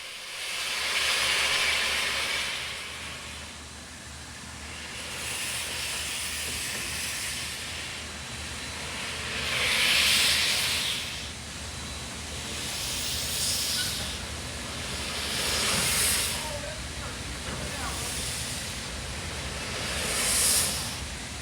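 Coal-burning steam locomotive on the Durango and Silverton railroad, hissing steadily and loudly up close, with stronger surges of venting steam swelling and easing every few seconds.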